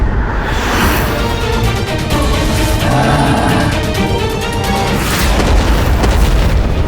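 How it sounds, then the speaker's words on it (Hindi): Explosions in the TV series Vighnaharta Ganesh roll on as a continuous barrage of deep booms and crackling blasts, loud and unbroken, with a dramatic soundtrack feel. "सर्वत्र होते ये विस्फोट मुझे अपार आनंद दे रहे हैं।"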